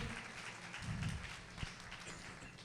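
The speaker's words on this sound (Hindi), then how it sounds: "जोरदार तालियां हो जाएं हमारे शकील भाई के लिए" Audience applause for Shakeel Patwari at a mushaira in Ujjain, a faint, distant wash of scattered clapping that stays fairly even across the clip with no voice over it.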